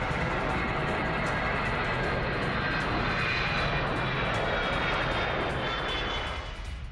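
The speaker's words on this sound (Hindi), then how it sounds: "और नेटो के एवॉक्स विमान की उड़ान।" A NATO AWACS surveillance aircraft flies past with a steady, loud, broadband engine roar that holds for several seconds before easing slightly at the end, with no voices.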